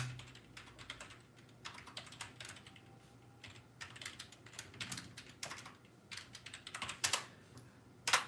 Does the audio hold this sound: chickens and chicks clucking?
no